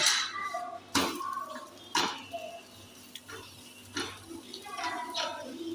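Utensil scraping and clattering against a hot pan as pieces of parii ttoo are flipped over during cooking, several sharp metallic knocks about a second apart over a low background hum, close by, with no one talking.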